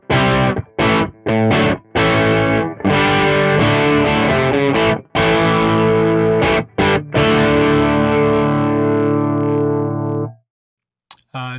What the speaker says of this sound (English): This says clean Marshall JMP, but with a humbucker.